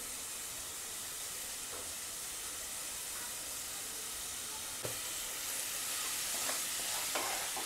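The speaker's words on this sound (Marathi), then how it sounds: "आता ह्याच्यामध्ये आपण स्वच्छ धुवून घेतलेले आणि कट केलेले मशरूम्स टाकायचे" Cut mushrooms tossed with salt into fried masala for a dhaba-style mushroom masala, giving a steady hissing sizzle under occasional spoon scrapes against the pan, close and fairly even throughout.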